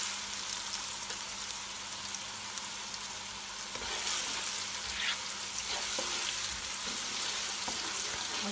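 Onions frying in a pan for a spicy home-style spaghetti, giving a steady close sizzle with a few stirring scrapes and no talking.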